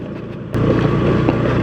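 An automatic scooter rumbles over a damaged, broken road on the route toward Sawarna. The engine and road noise jump abruptly louder after a quiet start, then hold a steady close roar.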